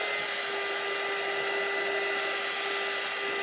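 A blow dryer runs continuously to dry a dampened t-shirt, a steady, loud whirring hum with an even airy hiss. It plays alone at close range with no pauses.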